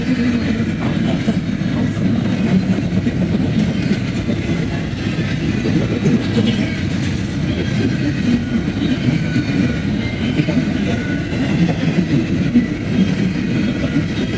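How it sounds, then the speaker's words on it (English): A Norfolk Southern freight train rolls steadily past at close range, a loud continuous rumble with rhythmic clickety-clack of wheels on rail joints sustained throughout. "There goes Norfolk Southern 262 on his way to Chicagoland."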